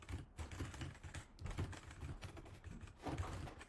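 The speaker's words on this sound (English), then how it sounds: "So if I type in a prompt here" Rapid, steady typing on a computer keyboard as a prompt is entered, a dense run of close key clicks with no one talking.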